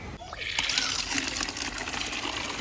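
Water splashes and gushes steadily while a vehicle is washed outdoors after rain, next to a rickshaw, with a continuous close spray and patter.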